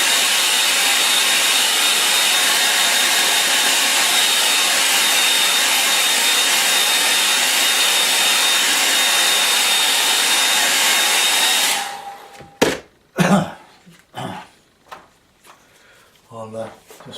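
A hair dryer blows steadily and close for around twelve seconds over a watercolour painting, a loud even whoosh that stops, followed by a few clattering knocks and handling noises.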